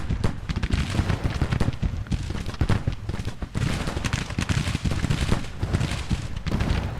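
Civil War musket volleys in Grand Tactician, a ragged, continuous crackle of many rifles firing at once over a deep rumble, loud and sustained with no pauses.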